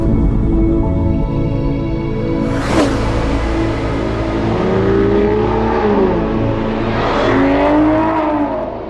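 Aston Martin V12 car engine recordings play through an immersive corridor soundtrack, loud revving with sweeping pitch rises and drops as engines accelerate and pass by, one sharp surge near the middle.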